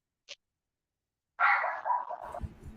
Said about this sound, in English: So your dog sure having a good time in the back there.